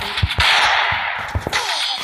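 Gunshots in Free Fire, a rapid run of sharp, loud bangs with hissing noise between them, several distinct shots in quick succession close by.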